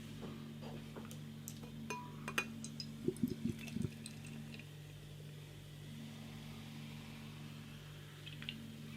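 Mikkeller Game of Thrones Iron Anniversary IPA is poured from a can into a glass, giving a soft liquid rush with a few sharp clinks midway over a steady low electrical hum. A faint fizz trails off afterward.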